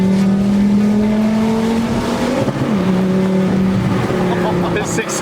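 A 2004 Volvo V70R fitted with a straight pipe exhaust drives by, its engine droning loud and steady, rising then dropping in pitch with a shift, and a rough crackle near the end.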